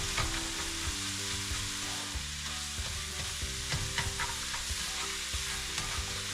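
Egg fried rice with carrots stir-fries in a pan with a loud, steady sizzle, and a utensil clinks and scrapes through it in constant mixing.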